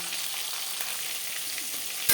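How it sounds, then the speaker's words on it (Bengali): Rohu fish frying in a pan for a tomato jhal curry, a steady broadband sizzle and crackle throughout with a louder clatter at the very end, no voices. "মাছ একটা সাইজ ভাজা হয়ে গেছে অপর সাইজটা উল্টে দেবে"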